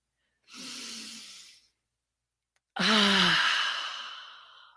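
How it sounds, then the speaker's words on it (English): Two deep breaths close to the microphone: a long audible inhale, a pause, then a loud, breathy sigh-like exhale released with voice that fades out slowly. "Let's take a breath together, a deep one."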